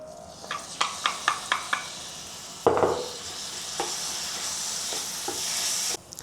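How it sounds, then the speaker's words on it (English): Several quick taps of a utensil on a pan, then a loud splash of minced pork into hot oil that settles into a steady sizzle, with occasional stirring clinks. "heat the oil to medium to fry the minced meat"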